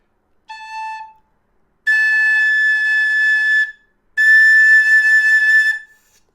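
A Nick Metcalf Standard High D tin whistle plays three sustained notes separated by silences, a short opening tone and then two longer, brighter, breathy held notes, clean and close with no talking.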